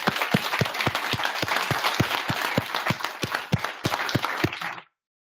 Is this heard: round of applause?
yes